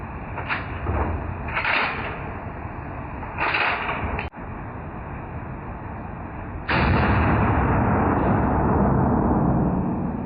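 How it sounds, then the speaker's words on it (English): Sharp report from a cheap World War II era rifle fired outdoors, a single crack cutting through steady wind noise, with a couple of lesser bursts before it and a louder noisy stretch afterward. "So this is not my first shot, but my second shot with this awesome gun."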